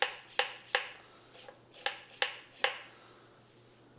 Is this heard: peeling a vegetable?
yes